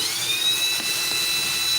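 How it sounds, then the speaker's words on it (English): Close, continuous high-pitched whine of a power drill running steadily throughout, with no pauses or voices. "Re-drill that hole. So I'll switch back to the smaller bit."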